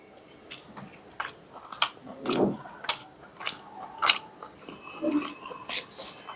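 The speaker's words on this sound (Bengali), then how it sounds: "ফার্স্টে খালি একটা কামড় দিয়ে দেখি কেমন মজা" Someone bites into chicken curry with a big green chili and chews it close up, producing a series of soft wet chews and squishy bites in an irregular rhythm, with no talking.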